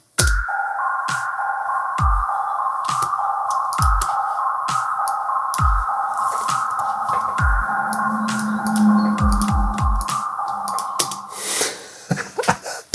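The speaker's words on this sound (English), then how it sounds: "That's just from recording my tumble dryer." A looping beat of punchy low thumps and sharp clicks over a sustained droning tone, ending in a scattered flurry of hits; the percussion was sampled from a tumble dryer.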